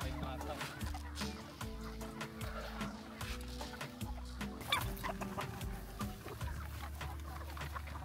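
Free-range heritage chickens clucking on a farm, with steady overlapping clucks and calls from several birds near the microphone and other farm noise in the background.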